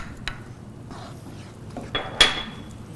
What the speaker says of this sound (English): We add the butter inside, we whisk it.